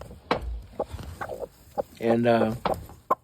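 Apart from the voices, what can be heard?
hen clucking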